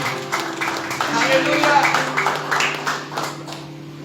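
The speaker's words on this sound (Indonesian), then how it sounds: "Tepuk tangan bagi Allah." A congregation claps at a Sunday worship service in a church, with quick overlapping claps and a voice over them.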